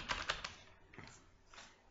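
Computer keyboard keys pressed while working in Adobe Photoshop: a quick burst of three sharp clicks followed by a few softer, scattered taps, close and clear with no talking.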